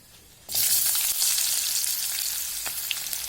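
Onions and green chillies hit hot oil in a pan, a sudden loud hissing sizzle after a brief quiet start that then holds steady and bright, with faint stirring.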